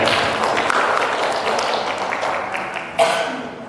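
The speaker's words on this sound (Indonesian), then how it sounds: "Beri tepuk tangan yang meriah." Audience applause at a school event, a continuous wash of clapping that slowly fades, with a sharp tap or knock near the end.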